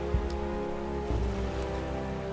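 Steady rain falls in the Metaphor: ReFantazio video game, a dense, continuous hiss mixed with low tonal game music and a couple of soft thumps, with no voices.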